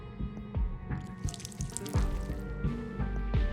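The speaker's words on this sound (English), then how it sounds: "I'll go and add some water" Water poured and dripping in the point-and-click game Whispers of a Machine, a series of separate drips and splashes, fairly close and clear, with no one talking.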